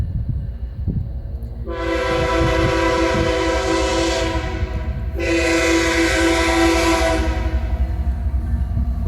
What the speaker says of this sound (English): I can actually hear a train coming now.